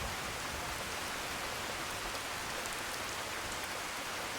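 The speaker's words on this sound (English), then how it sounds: "peaceful when it rained in Skyrim." Steady, even rain falling in a forest in Skyrim, a dense continuous hiss of drops that stays constant and moderately loud with no other sounds.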